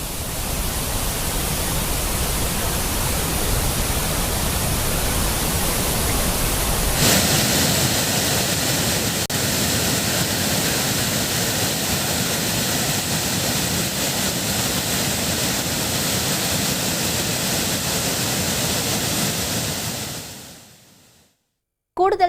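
Floodwaters of the Kaveri river surging at Hogenakkal, a loud continuous roar of rushing water that shifts in tone partway through before cutting off near the end.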